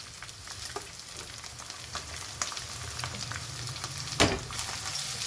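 Sliced onion and bell pepper fry in a pan with a steady, fairly quiet sizzle and crackle, broken by a few spoon scrapes and taps, one sharper knock near the end.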